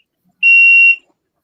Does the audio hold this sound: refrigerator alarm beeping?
yes